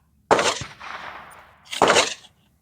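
Webley Nemesis X PCP air rifle fired at a swinger target outdoors, two sharp, loud shot reports about a second and a half apart, each with a short ringing tail.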